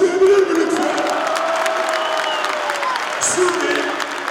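A crowd of football fans claps and cheers, a loud, dense burst of applause with some shouts, and voices are heard mixed into the noise.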